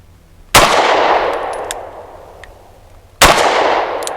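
Two loud, close pistol shots from a Sig P365 Fuse firing Speer Gold Dot 115 grain ammunition outdoors, each a sharp crack with a long ringing decay, spaced about three seconds apart.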